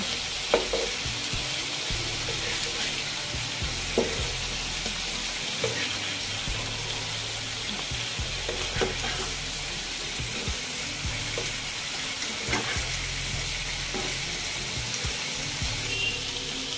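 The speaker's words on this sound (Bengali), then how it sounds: "এখন মাছগুলো আমি এক এক করে উল্টিয়ে দিব" Hilsa fish pieces fry in a pan with mustard spices, a continuous sizzle broken by soft scraping and clinks as the pieces are turned one by one, with a faint run of water in the background.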